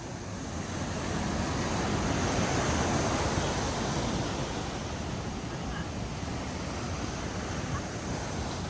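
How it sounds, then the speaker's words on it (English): Rolling ocean waves break along the waterfront at Galle Face Green in Colombo, a steady broadband wash of surf mixed with wind noise on the microphone, continuous and fairly close. "the beautiful waterfront with gorgeous rolling waves"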